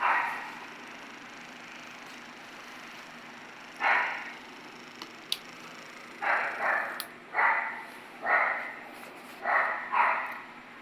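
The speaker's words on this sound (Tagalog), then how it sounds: "Ayun yung aso, nagtatahol na dun sa labas." A dog barks outdoors in short bursts, a lone bark and then a run of six or seven fairly loud barks at an irregular pace, heard over steady background hiss with no one talking.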